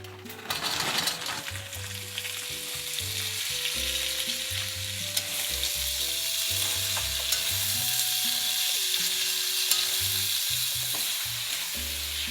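Mixed vegetables and meat stir-frying in oil with gochujang in a pan, a continuous close sizzle broken by stirring scrapes, with faint tonal music in the background and no talking.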